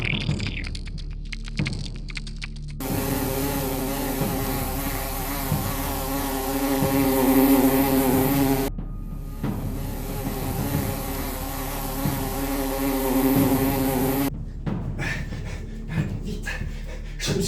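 Wasps buzz loudly and close in long sustained stretches, a droning whine that stops abruptly and starts again, with brief clicks and noises in the gaps between.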